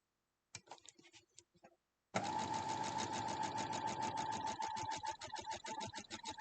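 A sewing machine stitches a long quilt border piece to a white piece, starting with a few short uneven bursts, then running steadily in a fast, even rhythmic chatter up close, with no talk.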